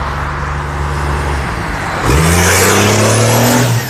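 A car engine revving hard, rising in pitch as it climbs and holds near and loud, with a whirring mechanical tone and no voices.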